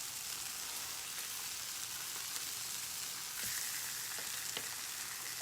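Chicken pieces for lemon chicken frying in a pan, a steady close sizzle and crackle with occasional sharper pops, no talking.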